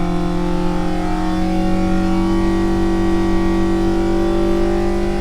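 A Mini's engine runs loud and steady on a dyno, holding high revs with a constant droning tone throughout.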